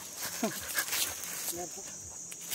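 Dogs searching outdoors for a hidden cave bunker in Kilinochchi give short barks and whines close by, mixed with people talking.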